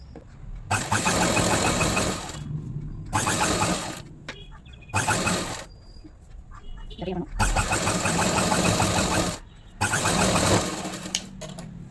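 A sewing machine runs in bursts while stitching a kurti seam during tailoring alterations, its loud rapid whir starting and stopping five times with short quiet gaps, close up.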